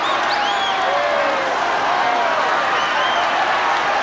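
Large boxing arena crowd at the Ali vs Norton fight cheering and applauding continuously, a dense roar with scattered whoops and whistles rising above it, no voices standing out.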